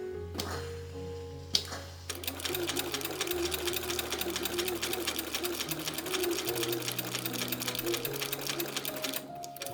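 A sewing machine runs steadily, stitching the final hem seam of a homemade wedding dress. Its needle chatters in a fast, even rhythm at close range after a short pause, with faint hum and no talk.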